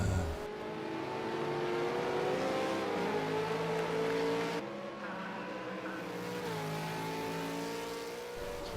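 A race car at about 160 miles an hour holds a steady, high-pitched engine drone, loud and continuous with slight pitch shifts, briefly dipping midway as it carries on.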